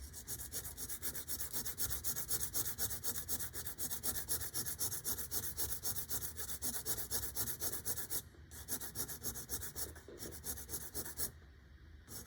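A drawing tool's point is sharpened with continuous fast rubbing and scratching, close and steady with brief pauses near the end, and no talking.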